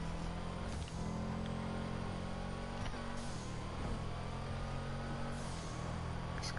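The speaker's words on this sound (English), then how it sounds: "This car is a speed demon." A car engine in the GTA V video game holds a steady, sustained drone with slight rises in pitch, like light revving, loud and continuous with no talk over it.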